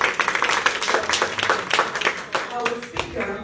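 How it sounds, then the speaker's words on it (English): Audience at a Rotary Club wellness event claps in a brief, moderately sized round of applause while a voice talks over it. "Round of applause."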